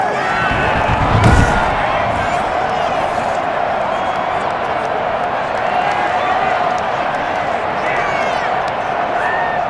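Home crowd noise from Madden NFL 21, with Green Bay Packers against Chicago Bears, forms a steady, loud roar of cheering throughout, plus a brief thump near the start and commentary-like voices underneath.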